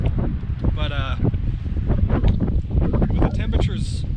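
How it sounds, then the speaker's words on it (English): Gusty wind at a windy winter campsite in near-freezing temperatures, loud buffeting rumble against the microphone in irregular blasts, with voices talking over it. "It's not the most comfortable thing to be sitting out in the wind"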